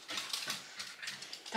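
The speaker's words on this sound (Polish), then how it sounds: "Tak się bawią te psiusze." Two small dogs playing together indoors, with short scuffling bursts, soft whimpers and playful grunts in quick irregular succession, fairly close and moderately loud.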